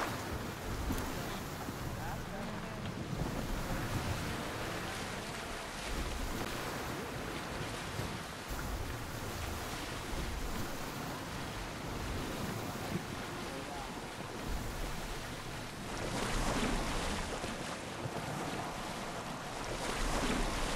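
Ocean waves and a small rowing boat at sea in the video game Assassin's Creed Odyssey, a dense, steady rush of water, surf and wind that swells louder near the end, with quiet talk underneath.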